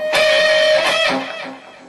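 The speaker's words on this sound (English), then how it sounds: "What I'm doing there is just kind of double stop bend." An electric guitar plays two notes together and bends them upward, letting them ring before fading into softer notes.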